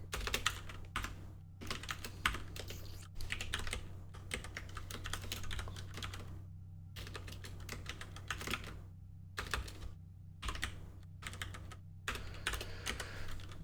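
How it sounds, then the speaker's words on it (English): Typing on a computer keyboard comes in quick bursts of clicking keystrokes separated by short pauses, close and moderately quiet over a faint steady hum. "I'll show you this when I'm done typing it all."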